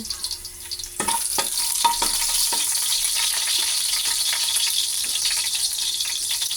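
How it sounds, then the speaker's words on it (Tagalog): Chicken hits a hot pan for sautéing with a sudden loud sizzle that settles into a steady, bright frying hiss, broken by a few clanks of a utensil stirring, with no speech. "Igisa natin ang ating chicken."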